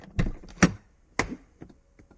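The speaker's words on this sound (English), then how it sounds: "I can hear relays clicking in the door." Relays click inside the door of a Corvette C6, a handful of sharp, close, isolated clicks spaced irregularly over about two seconds, with quiet gaps between them and no talking.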